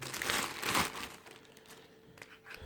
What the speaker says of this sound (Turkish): Evet, ürünümüzü şöyle alalım. Poşetinden çıkaralım.